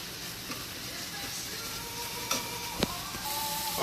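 Meat, garlic and other egg roll ingredients fry in a pan, a moderate steady sizzle with a couple of sharp utensil taps against the pan, close, with no one speaking.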